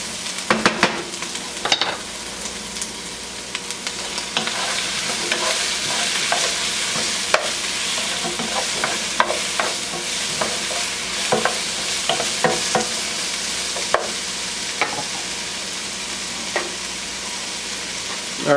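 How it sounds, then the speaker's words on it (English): Onions sizzling steadily in a pan over medium-high heat while being stir-fried for a chicken stir fry, a continuous close crackling hiss with frequent sharp pops and occasional scrapes of stirring, no voices. "I'm just going to let these sweat down until the onions get a little bit caramelized."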